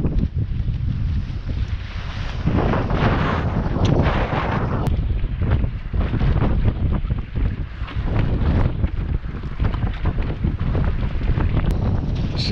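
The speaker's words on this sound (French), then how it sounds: "Les rafales, elles sont de ouf" Strong wind gusts buffeting a mini sailboat at sea, a loud continuous roar of wind across the microphone with surging rushes and the wash of water, sustained throughout.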